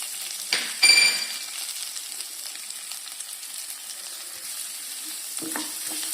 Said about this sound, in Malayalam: സവാള ഇട്ടിട്ട് നല്ലോണം വഴറ്റി കൊടുക്കുക